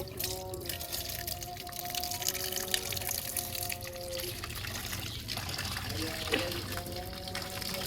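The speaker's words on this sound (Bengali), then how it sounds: "এখন শুটকি মাছগুলো ধুয়ে নেব" Dried loitta fish rinsed under running tap water makes a steady close trickle and splashing in a kitchen sink, with faint tones and voices underneath.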